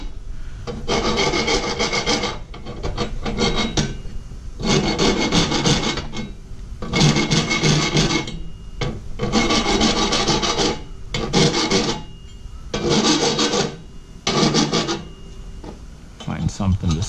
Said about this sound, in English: Need to deburr the inside.